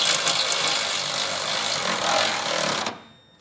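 An impact tool drives 15/16 hex bolts into the frame for a Curt underbed gooseneck hitch, a loud steady hammering buzz lasting about three seconds before cutting off abruptly.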